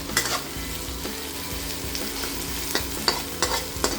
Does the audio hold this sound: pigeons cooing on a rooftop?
no